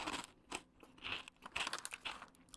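Asiago and cheddar cheese crisps chewed close to the mouth, with repeated crisp crunching bites in an uneven rhythm and no talking.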